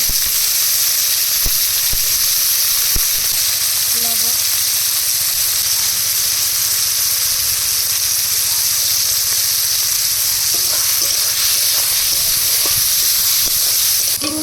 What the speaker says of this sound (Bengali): রসুনের সাথে চিংড়ি মাছগুলো দিয়ে একসাথে ভেজে নেব চিংড়ি